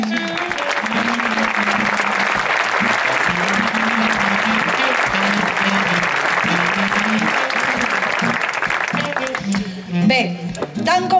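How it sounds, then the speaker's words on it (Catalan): Sustained audience applause fills a hall at a Catalan erotic literature prize ceremony in the Vall d'Albaida, steady and dense for about nine seconds before tapering off as a voice begins to speak. "Un aplaudiment!"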